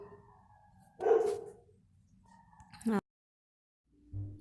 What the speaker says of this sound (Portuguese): Cachorro latindo, né?